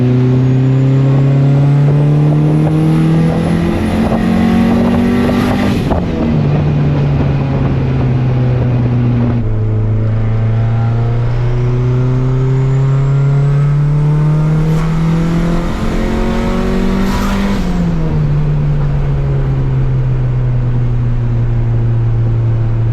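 Turbocharged single-cam Honda D-series engine pulling hard in third gear, loud and close, the engine note climbing steadily through two long runs with a brief dip between them as revs reset.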